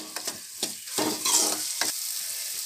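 Crushed garlic frying in a pan for a tender okra curry, stirred in a few quick spaced scrapes against a bright steady sizzle, near and moderately loud, without speech.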